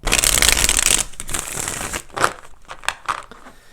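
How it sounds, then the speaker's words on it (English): Tarot cards are shuffled in a dense riffling burst, followed by a few separate softer snaps and flicks as the deck is handled, close up. "let's go ahead and do 4 shuffles"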